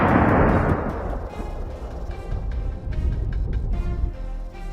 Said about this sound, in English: They bolted so fast that we had to fire immediately.